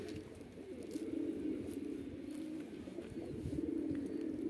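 A Van pigeon coos in a low, continuous, soft murmur, fairly close and steady throughout, with no voices.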